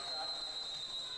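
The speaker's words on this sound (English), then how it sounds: "And now we have a whistle" A referee's whistle at a high school basketball game is heard as a thin, steady high-pitched tone held through the clip under faint gym background noise.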